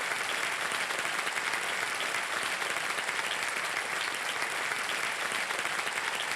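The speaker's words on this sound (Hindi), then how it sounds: "तालियां बज जाएं जोरदार" Loud, sustained applause from a studio audience on the Kaun Banega Crorepati celebrity game show, a dense, even roar of clapping that fills the whole stretch without a break.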